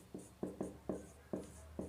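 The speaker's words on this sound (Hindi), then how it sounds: "तो चलिए हम लिखेंगे यहाँ पर" Chalk or marker taps and strokes across a board in a chemistry lesson, six short scratchy marks in an irregular rhythm, close and fairly soft with no talking.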